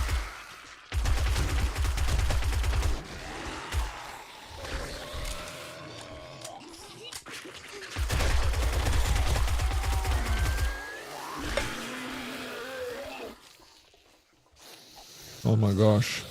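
Video game gunfire in a survival horde fight comes in dense bursts of rapid shots, loud and clustered, separated by quieter gaps with mechanical clatter.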